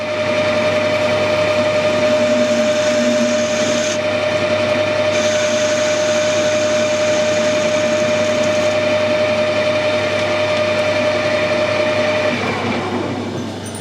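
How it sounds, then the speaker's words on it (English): A lathe runs continuously while facing off the end of a modified alloy taper drill, giving a loud steady mechanical whine with a sustained tonal hum that cuts out near the end, close by with no speech. "We'll just face the end off now."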